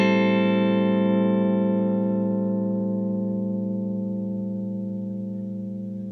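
A Fender American Elite Telecaster Thinline strung with D'Addario NYXL 10-46 strings rings out one strummed chord that sustains for over six seconds, slowly fading, bright and full, close and alone.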